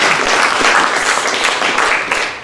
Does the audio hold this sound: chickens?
no